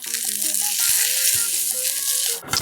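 Cluster beans sizzling steadily in a hot pan for a dried-fish cluster bean roast, a loud, bright frying hiss that runs throughout with tonal background music underneath.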